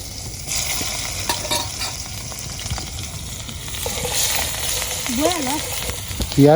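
Onions fry in a pan outdoors in a village, giving a steady close sizzle with occasional stirring scrapes. Brief voices talk faintly over it near the end.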